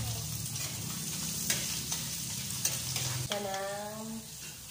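Garlic and onion fry in a pan with a steady sizzle and occasional stirring clicks. A brief tonal squeak rings out near the end, and no one speaks.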